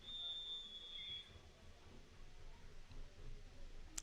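Referee's whistle at a football game between the Georgia Eagles and West Orlando Jaguars: one long, steady, shrill blast at the start that cuts off, over a dull background of field and crowd noise.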